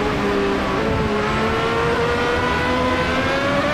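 Race cars in Automobilista 2 at a wet Silverstone scream loudly and continuously, overlapping engine notes shifting in pitch as cars accelerate close by.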